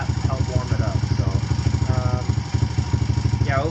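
A Kawasaki KLX140 dirt bike fitted with a KX65 carburetor idles with a steady, rapid single-cylinder putter, close and loud, while a person talks over it.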